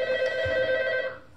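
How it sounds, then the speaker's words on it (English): An office telephone rings with a steady electronic trill lasting over a second, loud and close, then cuts off with a brief click at the end. "that'll stop when you pick up the phone"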